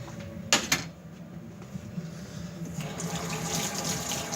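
A kitchen tap runs into a sink during hand washing, preceded by a couple of sharp knocks, then a steady rushing stream for the last couple of seconds, close and moderately loud, with no voices.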